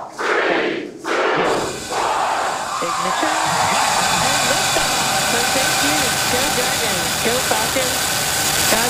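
A SpaceX Falcon 9 rocket roars during the Inspiration4 crewed launch: a steady, loud broadband rumble that swells after a brief opening and holds, with radio callouts spoken over it.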